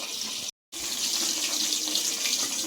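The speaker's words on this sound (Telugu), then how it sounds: "దీన్ని ఒకసారి కడిగేసి మనం నానబెట్టేసి పక్కన పెట్టేసుకుందాం" Tap water runs steadily into a sink while tamarind is rinsed under it, a close hiss that breaks off for a split second and then carries on evenly with no talking.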